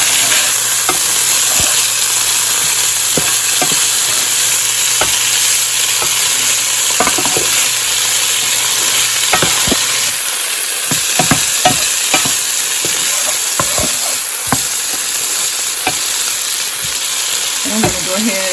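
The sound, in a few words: home canned black beans sauteing with garlic and onion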